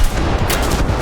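Loud, dense tank cannon fire and explosions from the War Thunder video game, forming a continuous roaring barrage of overlapping booms across the whole short stretch.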